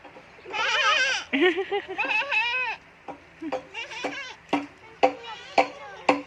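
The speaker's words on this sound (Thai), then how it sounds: "แพะร้องไง" Two young goat kids bleat close by in quivering, wavering calls: a long bleat, then a run of shorter cries and sharp bursts that follow quickly on one another.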